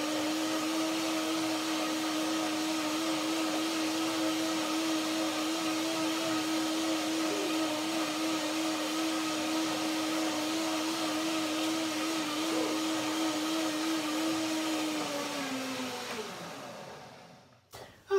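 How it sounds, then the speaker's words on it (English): Blender whirring steadily as it purées fruit with cashew cream, a constant loud motor drone that holds for about fifteen seconds, then winds down and stops near the end. "And then you blend it again and it easily gets very creamy."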